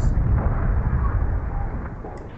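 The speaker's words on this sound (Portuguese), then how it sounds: "Super explosões." A car blows up in the driving game BeamNG.drive, a deep booming blast that rumbles heavily at first and then slowly tails off.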